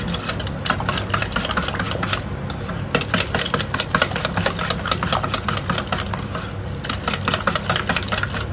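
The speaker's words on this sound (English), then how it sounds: "gonna whisk this up." A bread pudding mixture is whisked in a bowl, a rapid, steady rhythmic clicking and tapping close by that continues throughout with brief pauses.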